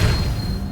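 A spell impact in Hogwarts Legacy, a disarming Expelliarmus effect: a short, loud, low booming burst that fades quickly, with no talk over it.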